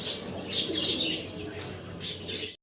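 Racer pigeons at a pigeon dealer's, cooing in soft repeated bursts against a low rustling background, with occasional chirps and brief wing movement nearby.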